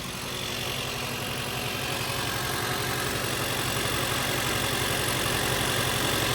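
A car engine idling with a misfire after head gasket sealer has been added, a steady low rumble with an uneven pulsing beat, holding at a constant level and gradually swelling slightly louder.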